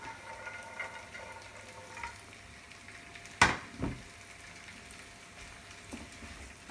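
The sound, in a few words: frying cashew nuts in a pan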